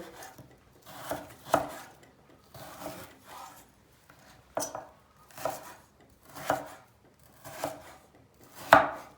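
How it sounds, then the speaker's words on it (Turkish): A knife chops frozen chicken steadily on a cutting board in irregular bursts, each stroke a crisp, close thud, with no talking. "Hemen doğrayalım tavukları."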